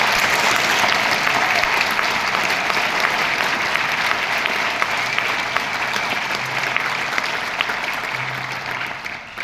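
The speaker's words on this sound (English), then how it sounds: "give a round of applause for the teachers who are doing that" An audience at the 2025 ECKMEA District Blue Band concert gives the teachers a round of applause, a dense, loud, continuous wash of clapping that fades slightly near the end.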